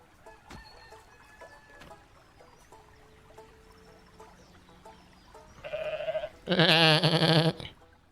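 In the video game Goat Simulator 3, a goat bleats loudly twice near the end over a busy background of game sounds and faint chirps.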